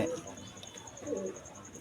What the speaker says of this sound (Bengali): আজকে আপনাদেরকে কিছু কবুতর দেখাবো।